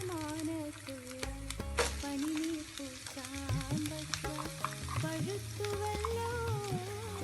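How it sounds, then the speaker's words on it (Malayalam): Chopped onion dropped into a pan where chicken is already frying, giving a steady close sizzle with stirring clatter and scraping; a voice talks briefly over it. "ചിക്കൻ ഇവിടെ ഫ്രൈ ആയിട്ട് വന്നിട്ടുണ്ട്. ഇനി ഇതിലേക്ക് ചോപ്പ് ചെയ്ത് വെച്ച ഒണിയൻ ഇട്ട് കൊടുക്കാം."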